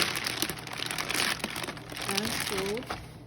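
A plastic zip-top Ziploc bag crinkles and rustles as it is unfolded, close by and fairly quiet, with a few soft tonal squeaks mixed into the crackling.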